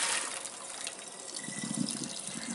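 A pot of boiling water and carrots dumped into a strainer in a kitchen sink, a loud close gushing pour that tapers into draining splashes and sloshing, with no voices.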